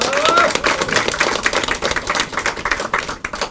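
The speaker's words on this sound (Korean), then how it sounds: "박수 한번 부탁드리겠습니다." A hall crowd at a political party New Year event claps in a brisk burst of applause, loud at first and thinning into scattered claps, with a voice briefly heard at the start.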